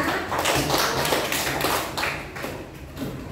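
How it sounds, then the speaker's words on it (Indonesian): Students in a classroom applaud together, making a dense, continuous wash of clapping that stays loud and close throughout, easing slightly toward the end. "tepuk tangan buat semuanya"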